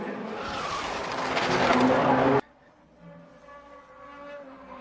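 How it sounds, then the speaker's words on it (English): Race cars crashing into the wall before the start-finish line, tires skidding: a loud, roaring skid and impact noise for about two seconds, then cutting abruptly to quieter background engine hum. "Oh, they're wrecking. Big crash."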